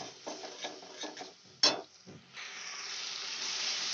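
Soaked spice masala hits a pan of tomato and starts frying into a sustained, hissing sizzle. Utensil clinks and scraping come before it.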